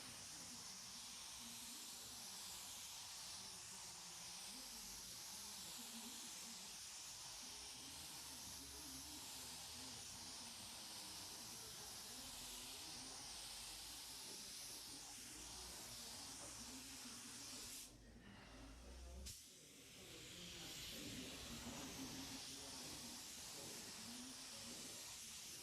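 A spray gun lays clear flow coat onto a car body during DIY auto body dent and paint repair, a steady continuous hiss throughout with a brief pause near the end before spraying resumes; no talk.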